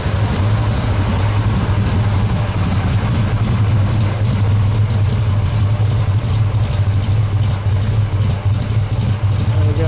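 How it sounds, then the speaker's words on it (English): A 1955 Chevrolet 210 pro stock car idles steadily through its dual exhaust, a loud, continuous low rumble heard up close from behind the car with no break. "We'll get out, let you hear the dual exhaust back here."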